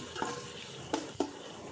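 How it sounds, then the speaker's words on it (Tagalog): Onion and garlic frying in oil in a pan for adobo, a faint steady sizzle with a few sharp utensil scrapes and clinks against the pan, no voices. "i-fry yung sibuyas at bawang"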